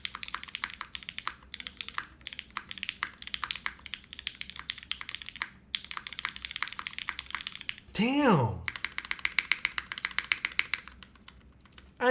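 Mechanical keyboard with a polycarbonate Kohaku case being typed on, giving a steady run of close, crisp key clacks with short pauses. A speaker briefly exclaims near the end, over a single deeper spacebar-like thump.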